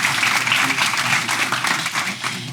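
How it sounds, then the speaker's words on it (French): Sustained applause from an audience at a local marketing show stage event, dense steady clapping filling the whole stretch with no break. "Donc, on peut applaudir Alexis."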